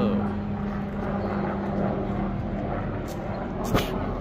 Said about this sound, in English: Helicopters flying fast.